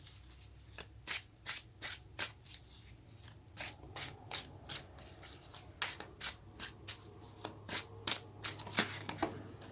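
Tarot cards shuffled by hand at close range, a quick steady run of crisp riffling snaps and flicks repeating for several seconds over a quiet low hum.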